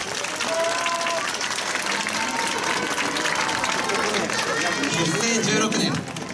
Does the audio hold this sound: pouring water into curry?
no